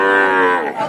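A Holstein Friesian heifer at a cattle market gives a single loud, close moo under a second long, harmonically rich and slightly falling at the end.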